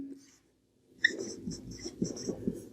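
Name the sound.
writing on a board or tablet during a lecture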